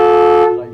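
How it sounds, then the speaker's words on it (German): Horn of a self-built motorhome gives a single short, loud, steady honk that cuts off and fades quickly. "Nein, das ist die Hupe."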